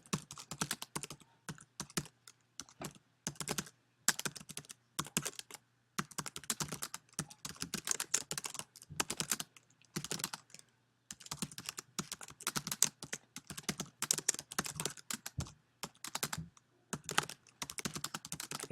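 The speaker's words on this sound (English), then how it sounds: "So I'm going to type just a topic sentence to show you how this works." Steady, rapid clatter of keys on a computer keyboard as a sentence is typed into a word processor, close and dry with brief pauses between bursts and no talking over it.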